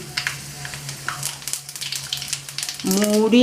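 Whole nigella seeds, two dry red chilies and fennel seeds sputter in hot mustard oil, giving a faint, irregular crackle with scattered pops, and a voice begins speaking near the end.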